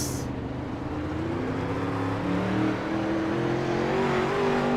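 A 360 sprint car engine in a racing sim at Lernerville rolls under yellow-flag conditions, a steady droning hum with gentle rises in pitch, heard alone and up close.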